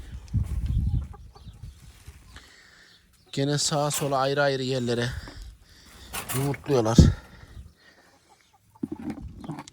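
Gurk chickens cluck and squawk in short bursts at close range on a Turkish farm during egg collecting, with someone speaking in between and over the calls.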